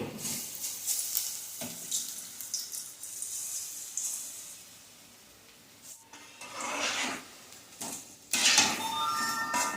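Small moong bhaji fritters frying in very little oil in a pan, a steady broadband sizzle with clinks and scrapes of utensils against cookware, rising and falling in loudness and swelling louder near the end.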